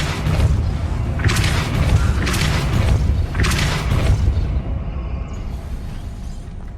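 Spell impacts from Hogwarts Legacy ring out as three loud, booming bursts in quick succession over a low rumbling game-world bed, followed by a faint trailing shimmer.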